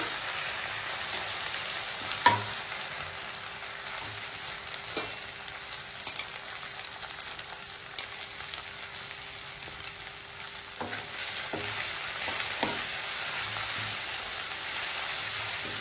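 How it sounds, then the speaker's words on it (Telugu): Ginger paste fries in hot oil for a masala dosa potato filling, making a steady, close sizzle with a few sharp clicks of stirring and no talking. "అల్లం పేస్ట్ బాగా ఆయిల్ ఫ్రై అయిన తర్వాత"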